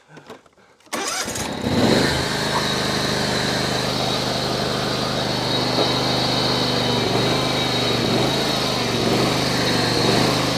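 John Deere X320 lawn tractor engine starting up with a brief crank, then running at a steady loud idle drone, close and alone for the rest of the clip.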